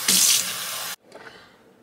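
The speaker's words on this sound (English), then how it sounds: "So I'm gonna just pour some water in here." Water is poured into a coffee maker, making a loud, close, rushing splash for about a second. It cuts off abruptly, leaving faint room noise.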